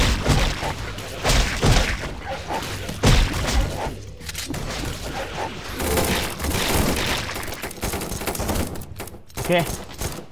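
Gunfire crackles in the zombie survival game Run!ZombieFood, loud dense bursts of shots and impacts over busy game noise while a person talks throughout.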